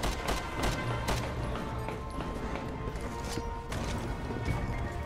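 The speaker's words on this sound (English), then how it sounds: "I'm up this ladder now. Oh yeah, I'm shooting at guys." Gunfire rings out as enemies are shot in Resident Evil 6: sharp, repeated reports crack at an irregular pace over a steady, moderately quiet game background, with brief speech now and then.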